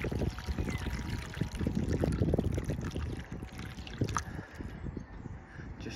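Water poured from a watering can into a newly resealed plastic gutter with a replaced stop end: a steady, close splashing and trickling flow that runs throughout with no talking.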